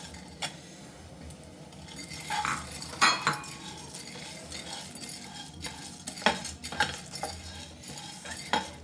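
Pumpkin and sunflower seeds dry roasting on a tawa. A quiet, scraping stir runs throughout, broken by scattered sharp clinks of a utensil against the pan and no voices.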